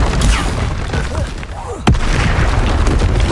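Confringo spell blast in Hogwarts Legacy, a sudden booming impact partway through, set amid a dense, loud wash of game noise and effects with voices mixed in.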